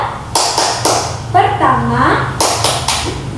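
A classroom group claps the Tepuk Pancasila rhythm, three short bursts of sharp claps, then a pause filled by a sung or chanted voice, then three more bursts of claps.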